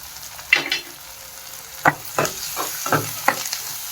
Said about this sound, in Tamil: நல்லா பொன்னிறமாக நல்லா ஃப்ரை பண்ணிக்கலாம்.